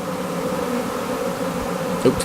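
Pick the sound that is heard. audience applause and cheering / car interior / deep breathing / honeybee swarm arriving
honeybee swarm arriving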